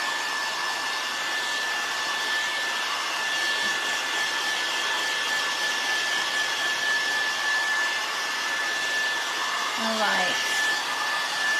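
Hair dryer blowing steadily and loudly close by while drying a patriotic DIY craft piece, a constant whooshing hum throughout, with a brief spoken word near the end.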